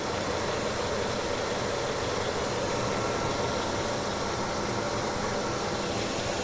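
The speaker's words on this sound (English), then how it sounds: "I'm listening to this motor." A 2002 Chevy Suburban 2500 LT with an 8.1L V8 sits idling, giving off a steady, even hum with no knocks or irregular sounds, unbroken and alone for several seconds.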